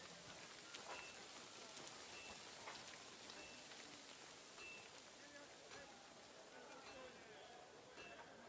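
Steady rain falls in Kingdom Come Deliverance 2, a soft continuous hiss of drops on surfaces with scattered patters, very quiet throughout.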